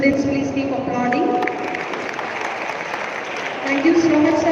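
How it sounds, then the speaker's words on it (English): Students applauding at a national conference on sustainability, steady crowd clapping throughout, a sustained tone and murmuring voices mixed in, fairly loud in a hall. "Students, please keep applauding."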